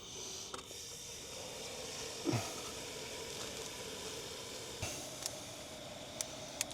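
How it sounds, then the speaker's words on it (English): Liquid boiling off rapidly in a heated container during hydraulic cylinder rebuilding, a steady broadband sizzling hiss throughout with a few faint crackles and pops, no talking. "it's just boiling off super fast"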